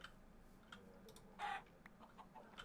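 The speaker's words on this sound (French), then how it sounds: "Oh, les poulets." Chickens in the Minecraft video game give a short burst of clucking partway through, faint and alone over a quiet game background.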